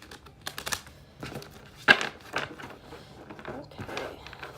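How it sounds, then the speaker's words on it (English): Tarot cards being shuffled by hand, giving quick papery riffles and soft slaps in short bursts with one sharper snap, close and fairly quiet, with no voice. "I have not shuffled the cards, so we're going to be shuffling them."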